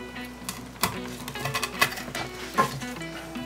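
Knife blade chops through lemongrass stalks on a cutting board, a few sharp close taps and crunches spaced irregularly, with quiet pauses between strokes.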